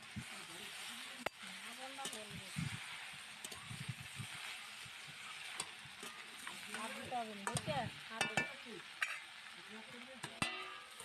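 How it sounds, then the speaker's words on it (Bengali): Nalte greens frying in a pan with salt and turmeric, a soft sizzle with scraping stir strokes, fairly quiet and close, while a voice talks over much of it. "এবার নোটের শাকটা হালকা নেড়েচেড়ে নিয়ে পরিমাণ মতো লবণ ও হলুদ দিয়ে নোটের শাকটাকে কিছু সময় ধরে ভেজে নেবো আগে"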